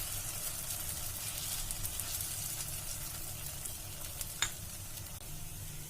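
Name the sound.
thick batter frying in an oiled frying pan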